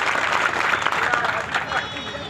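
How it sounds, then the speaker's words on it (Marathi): A crowd claps at a public event in Aundha Nagnath, welcoming a councillor joining the Shinde Shiv Sena, with dense, steady applause throughout and voices mixed in. "आपल्या सर्वांचं टाळ्या वाजवून या ठिकाणी आपण सर्वजणांनी स्वागत करा"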